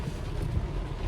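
Strong, storm-like wind with heavy rain roars in a constant low buffeting rush that blasts the microphone, loud and close, with no voices.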